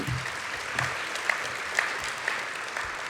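An audience at a youth charity fundraising breakfast applauds in a continuous, even wash of clapping, with a few louder claps near the front, steady and moderately loud.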